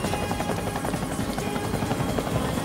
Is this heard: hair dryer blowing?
no